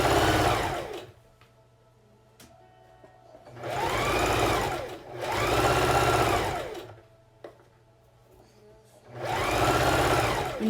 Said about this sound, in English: I'm going to sew all the way down the strap and top of the mask